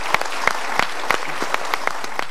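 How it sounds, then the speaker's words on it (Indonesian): Studio audience at an Indonesian talk show bursts into applause: a dense, steady wash of many hands clapping close and loud for about two seconds, with no voices over it. "kita berikan tepuk tangan dulu"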